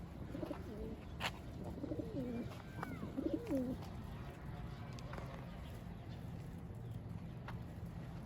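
A smoky Mardin tumbler pigeon coos softly in a few rolling phrases near the middle, over a low background hum with a faint voice nearby.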